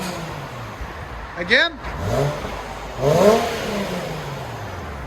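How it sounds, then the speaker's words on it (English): A 2011 Infiniti FX35 with a 3.5L V6 and its stock muffler still fitted revs twice at close range, each rev a short rising and falling surge. A voice speaks briefly between the revs. "2011 Infiniti FX35. This is what it sounds like before."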